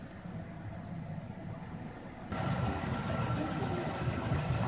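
A high-mileage Nissan X-Trail engine idles steadily after warming up, with no knocking heard, a close, even mechanical hum that grows slightly louder and brighter partway through and then holds steady.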